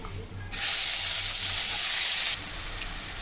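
Chopped onions frying in hot oil with dried chilli, bay leaf and cumin, giving a close, bright hiss that swells suddenly, holds steady for about two seconds, then eases back to a softer sizzle.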